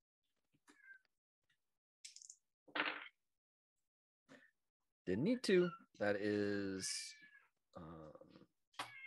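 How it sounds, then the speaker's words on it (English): A cat meows several times nearby, with drawn-out, wavering cries in the middle, mixed with brief clicks and a short stretch of someone speaking. "Sorry about the cat noises"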